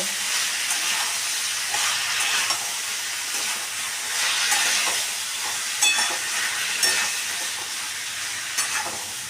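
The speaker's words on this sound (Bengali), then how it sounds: "এটা কিন্তু বেশ ভালো ভাজা ভাজা হয়ে গেছে" Ivy gourd and potatoes fry in a pan with a continuous hissing sizzle, moderately loud and close, broken by occasional sharper crackles and stirring scrapes.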